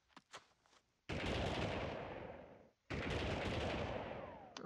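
Loud, sustained bursts of gunfire in the Army Men 3D video game, two long rapid volleys separated by a brief pause after a few sharp initial shots, with no talking.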